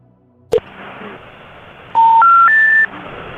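A phone dialing a number gives a quick click, then a run of three rising keypad tones in steady succession. The tones are clear and loud against a faint room hum, with no talking.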